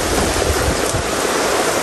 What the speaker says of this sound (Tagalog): Malakas na po ang ulan. Pati hangin.